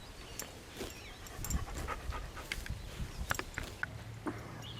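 A dog pants rapidly up close, with wet snorts and snuffling breaths in a quiet outdoor setting, while a voice occasionally speaks faintly.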